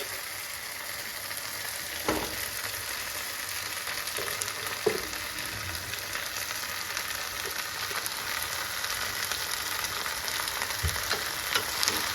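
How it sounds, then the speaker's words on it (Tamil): Gongura sorrel leaves sauté in a pan for an Andhra-style chutney, giving a constant close sizzle broken by a few soft knocks of a stirring utensil, with no voices. "இந்த கீரை இதுலேயே போட்டு நல்லா வதக்கிக்கோங்க"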